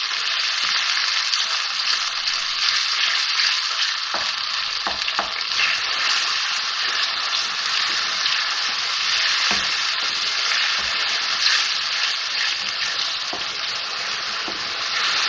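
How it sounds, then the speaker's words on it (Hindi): Onions and a tablespoon of ginger-garlic paste frying in a pan for an achari aloo curry, with a loud, constant sizzle and an occasional stir or crackle, and no voices. "अब इसमें ये प्याज डाल रही हूँ, फ्राई करेंगे इसको।"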